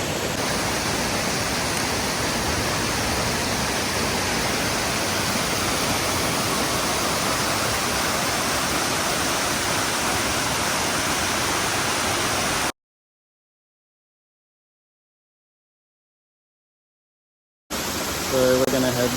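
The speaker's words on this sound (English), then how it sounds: "We'll also get a really good shot of that smaller waterfall with the bigger one in the background down here" Leura Cascades waterfall in the Blue Mountains, a steady broadband rush of falling water, loud and continuous, cut by a few seconds of silence before the roar briefly returns.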